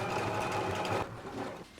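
A sewing machine runs steadily, top stitching along a pants pocket facing a quarter inch from the fold, then stops abruptly partway through and leaves a quiet room.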